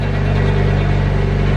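Turbocharged Honda Civic B16 VTEC engine running with no exhaust fitted, a loud, raw, steady idle with deep low rumble and a constant throbbing drone, close and uninterrupted.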